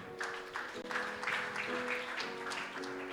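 A church congregation applauds in a steady, full-room wash of clapping for about three seconds, with sustained musical tones underneath.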